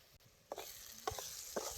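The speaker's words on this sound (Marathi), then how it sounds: "आता ही सौदा बी त्याला चांगला भाजून घ्या" Dried shrimp (sauda) frying in oil in a pan, a faint steady sizzle punctuated by three or four soft stirring scrapes.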